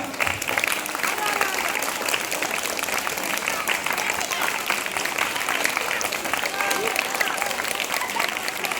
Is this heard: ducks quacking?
no